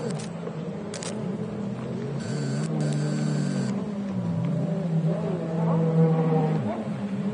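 A two-stroke Superjet stand-up racing watercraft engine drones steadily at a race on water, its pitch rising and falling as it revs, mixed with other craft and a commentator's voice over the top.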